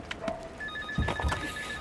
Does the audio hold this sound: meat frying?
no